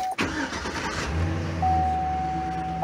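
A car engine, just back from an oil change, cranks briefly and catches, then settles into a steady close idle.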